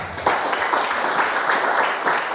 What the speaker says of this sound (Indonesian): beri tepukan dulu